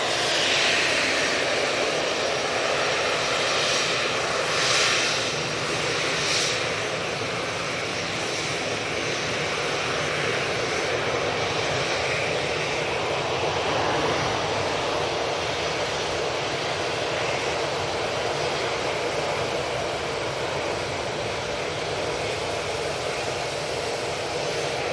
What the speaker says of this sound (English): Let's get this Aer Lingus is about to touch down.